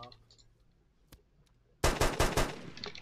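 Automatic gunfire in a video game: after a mostly quiet lead-in with one faint click, a sudden loud burst of rapid shots rattles out for about a second, then tails off.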